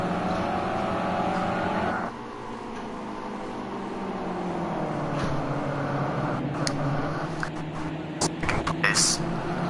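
Race cars run the Sonoma track, giving a steady engine roar under a commentator's voice. Partway through, the engine note drops and then climbs again, and a few sharp transient bursts come near the end.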